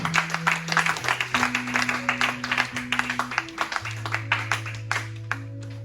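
Congregation clapping in a church service, a dense patter of many hands in rhythmic bursts, with sustained music tones running underneath throughout.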